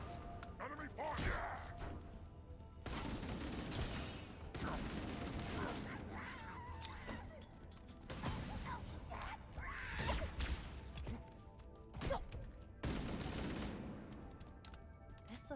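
Gunfire from the Halo Campaign Evolved game: rapid bursts of automatic weapon fire and thudding impacts come in clusters throughout, loud and close, with a voice speaking in between.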